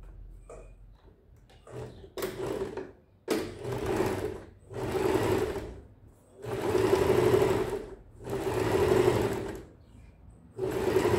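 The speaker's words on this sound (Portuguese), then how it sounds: "rente à borda de montagem, eu tô passando um pesponto" A sewing machine topstitches trousers close to the pocket seam edge. It runs in repeated loud mechanical bursts of rapid stitching, with short pauses between runs.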